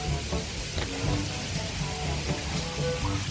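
A steady light drizzle patters and hisses continuously on a small farm, with faint tonal sounds in the background.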